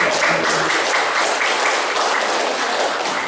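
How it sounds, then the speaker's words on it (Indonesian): Applause at a school training closing ceremony, continuous steady clapping from a gathered audience, loud and close throughout. "Tepuk tangan terus pokoknya."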